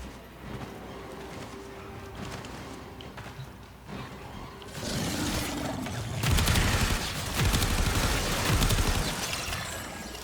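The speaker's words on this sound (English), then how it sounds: "Direct explosive gunfire." Explosive gunfire and blasts in the video game Warframe, a quieter stretch of scattered shots and a hum that gives way to louder bursts of repeated crackling fire and impacts in the second half, with no voices.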